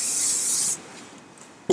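Hairspray sprayed onto hair while setting a base for an updo: a steady, close hiss for about three-quarters of a second, then quiet handling and a short sharp tap near the end.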